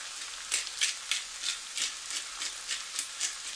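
Minced meat seasoned with paprika and pepper sizzling in a pan, a steady crackling hiss with regular bright bursts of spatter about every third of a second, close and alone without talk.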